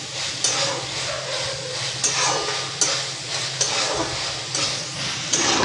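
Pea and potato curry frying in oil is stirred steadily, a continuous close sizzle broken by regular scraping strokes of a spoon against the pan, with no voices.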